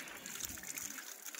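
Water flowing from a spout, a faint, brief trickling gush heard up close and alone.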